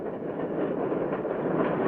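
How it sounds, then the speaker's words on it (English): A fast Santa Fe Railway freight train running from Kansas City to Chicago rumbles past in a steady, muffled roar of rolling cars, continuous and fairly close with no voices. "There goes the fast freight train from Kansas City to Chicago."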